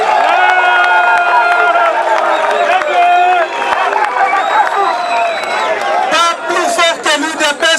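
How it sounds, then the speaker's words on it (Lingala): A crowd at a UDPS political rally in Congo cheers and applauds loudly, voices whooping and shouting in a dense roar that breaks into sharper bursts of clapping and cries toward the end. "Applaudissez pour vous-même."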